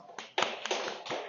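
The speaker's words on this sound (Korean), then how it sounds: "자, 우리 박수 한번 줍시다." A handful of separate claps from a small lecture audience, a few sharp hits scattered unevenly over a brief moment, close and fairly quiet.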